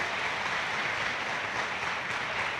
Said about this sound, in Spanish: ¿Qué tal si les damos un aplauso bien fuerte